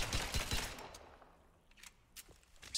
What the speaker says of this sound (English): That is a flashbang.